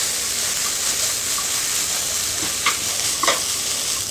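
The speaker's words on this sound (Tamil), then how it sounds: "எண்ணெயிலேயே அவரைக்காவை ஒரு அஞ்சு நிமிஷத்துக்கு நம்ம நல்லா வதக்கிக்கலாம்." Broad beans sautéing in hot oil in a kadai give a steady, even sizzle throughout, with a couple of brief scraping stirs near the end; close and moderately loud, no voices.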